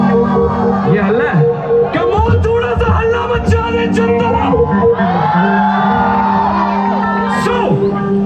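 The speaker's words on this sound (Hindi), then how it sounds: "एंड थोड़ा सा हल्ला मचा दो" A concert crowd at a live show whoops, yells and cheers loudly and continuously, with chatter and voices woven through the roar, close and energetic throughout.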